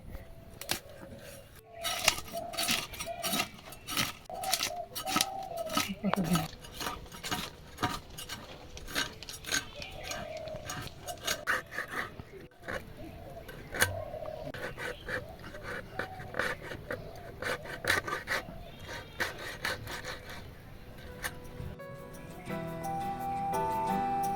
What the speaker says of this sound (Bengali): মাছটা কেটে নিচ্ছি সাইজ করে।